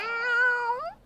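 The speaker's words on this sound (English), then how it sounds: "how about this fluffy family of kittens?" A kitten gives a single clear, drawn-out meow lasting about a second, close and alone, rising slightly and then trailing off.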